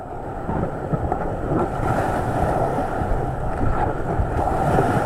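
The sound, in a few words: whitewater river rapids while rafting, raft surfing in a hole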